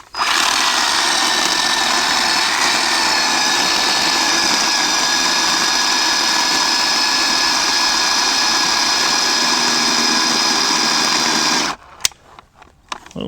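Harbor Freight 10-inch electric chainsaw running at a steady high-pitched whine for about twelve seconds, loud and close, then cutting off abruptly into a few faint clicks and knocks.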